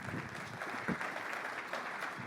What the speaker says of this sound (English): Let's give another round of applause and take it away.